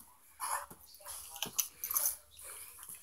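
A dog in a room gives short whimpers and snuffling sounds in a few separate bursts, close by and fairly loud.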